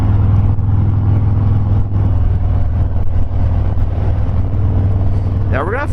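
Engine of a 2019 Harley-Davidson FXDR Softail drag-style motorcycle while riding, a loud, steady low rumble close up under wind noise, with a short rising whine at the very end.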